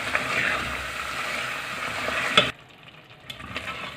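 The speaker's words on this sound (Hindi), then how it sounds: "गरम मसाला डालने के बाद इसको 1-2 मिनट मैं इसको भूनूंगी" Mutton liver masala frying with garam masala in a pan, a steady sizzle with stirring that cuts off abruptly partway through, leaving faint scattered clinks.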